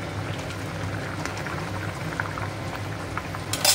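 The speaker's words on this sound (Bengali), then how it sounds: "এটা একটু ফুটে গেলে নামিয়ে নেবো" A pot of fish curry with green chillies bubbles at a steady low simmer, a soft continuous burble close by with a brief louder rattle at the very end.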